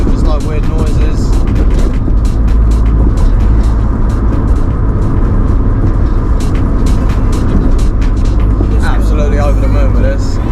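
Honda EF Civic fitted with an SR20DET engine driving, a loud constant engine and road roar from inside the car while a person talks throughout.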